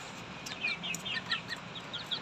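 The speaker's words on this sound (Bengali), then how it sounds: "এই আমার আসিল মুরগিগুলো নিচে আছে" Aseel chickens in a poultry setup make soft, short clucks and chirpy calls in scattered bursts, fairly faint over a light background hiss.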